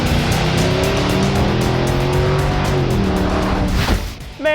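A Mustang GT fitted with nitrous driving hard on a street, its engine roaring loud and close with rising revs and rumbling exhaust before it cuts off abruptly at the end.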